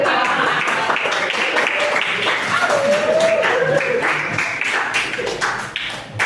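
A classroom group claps in applause, a sustained patter of many hands throughout, with a voice speaking faintly underneath.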